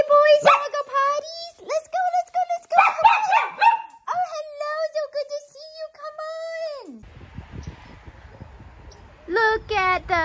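Dogs let out to go potty bark, yip and whimper close by in a series of excited bursts, with a short gap of quieter rustling before the barking resumes.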